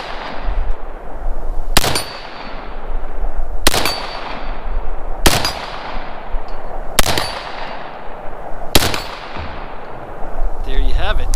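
5.56 rifle firing at steel targets about 50 yards away, six loud sharp shots spaced roughly two seconds apart, each followed by a ringing metallic clang and a decaying echo.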